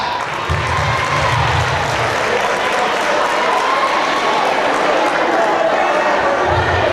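Audience applause at an Eastside High event, a continuous dense wash of clapping and crowd noise lasting throughout, with a low rhythmic thumping of music or bass underneath.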